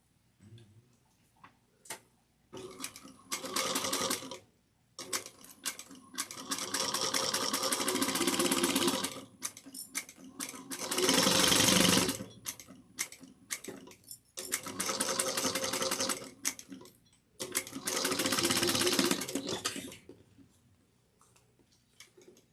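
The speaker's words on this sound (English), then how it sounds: "Then we're going to sew those down. Just using a 1/8 of an inch." A sewing machine stitches a woven tote in five separate runs of rapid, steady mechanical whirring, each lasting a few seconds, with quiet pauses and light handling clicks between them.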